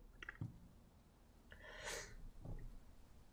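A person sneezes a few times in quick succession, with snorting breaths and gasps between them, close but quiet over faint background noise.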